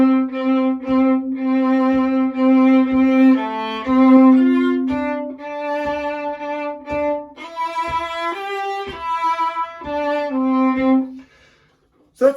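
Solo viola playing the double-time eighth-note rhythm from a song, a steady sequence of clear bowed notes at constant tempo, close and sustained, alone without talk, ending with a brief pause.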